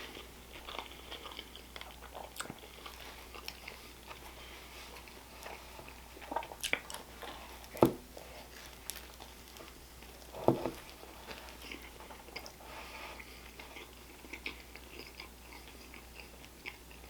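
Someone crunches Cheez-It popcorn in a taste test, with sparse, scattered bites and chewing crunches over a quiet, faintly humming room, two louder crunches standing out midway.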